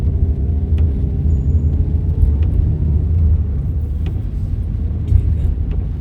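A car drives through a German town in the rain, its steady road rumble and engine hum continuous and close throughout, with no talking.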